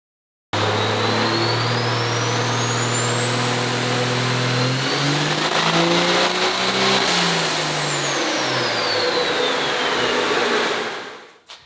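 A diesel truck engine on a dyno revs up in a long, loud, continuous pull. Its pitch climbs steadily with a rising turbo whine, peaks, then falls away before the engine shuts off.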